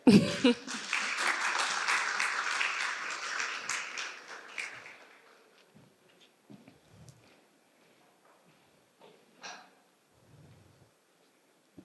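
Audience applause in a conference hall welcomes two panelists onto the stage, a loud burst of clapping that fades after about five seconds into scattered small noises and near silence.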